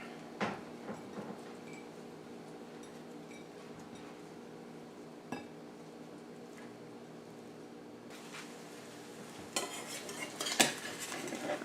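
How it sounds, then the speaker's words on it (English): Cutlery scraping and clinking on a plate while a biscuit is torn up for a sausage gravy breakfast, faint scattered taps and scrapes with a busier cluster of clinks near the end, no talk. "I'm going to tear my biscuit up."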